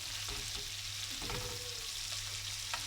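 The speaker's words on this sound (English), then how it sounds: "by basting the steaks and pouring essentially hot fat over" Steaks frying in a pan while being basted with hot fat give a dense, steady sizzle, with soft scraping and spooning clatter as the fat is poured over, close and without talk.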